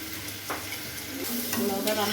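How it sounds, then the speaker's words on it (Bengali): Soybean chunks sizzle in a hot wok while being stirred, a continuous frying hiss broken by spatula scrapes and knocks, with faint background noise from a television. "এবার মা কড়াইয়ের মধ্যে সয়াবিনগুলো দিয়ে দিল"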